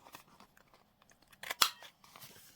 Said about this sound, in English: I am actually going to round the edges instead of cutting them.